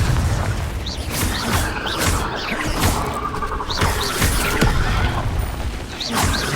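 Confringo blasting spells explode repeatedly in a Hogwarts Legacy battle on PS4, loud booms and crashes layered over a dense, continuous din of combat effects.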